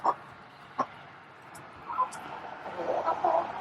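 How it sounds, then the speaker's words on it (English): A broody lavender buff Orpington hen clucks close by, a few short sharp clucks followed by a softer, more continuous run of murmuring calls. "Now, one of my lavender buff Orpingtons"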